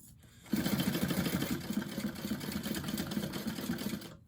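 A sewing machine runs steadily while stitching a bag, with a close, rapid, even chatter of needle strokes that starts after half a second and continues to the end.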